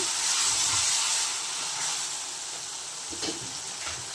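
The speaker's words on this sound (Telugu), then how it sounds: "అల్లం వెల్లుల్లి పేస్ట్ కూడా బాగా వేగిపోయింది" Ginger garlic paste sizzles steadily in a hot pan for Rayalaseema-style country chicken curry, a continuous bright frying hiss with a few faint stirring scrapes and no voices.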